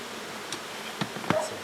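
Honey bees buzz around an opened, heavy nuc hive, a steady hum with a few louder close passes as individual bees fly near.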